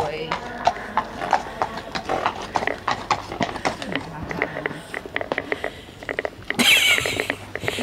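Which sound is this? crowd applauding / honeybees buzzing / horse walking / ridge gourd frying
horse walking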